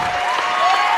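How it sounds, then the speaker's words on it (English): A crowd cheers and applauds loudly at a high school basketball quarterfinal between Rockford and Holt, a dense continuous roar with whistling tones riding on top. "You can hear the crowd right behind me."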